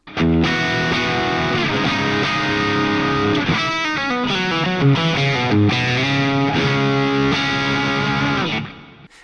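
Electric guitar runs through a Friedman DS40 Dirty Shirley amp sim in a vintage Marshall-style rock tone, playing loud distorted chords and riffs that ring out continuously, then fade away at the end.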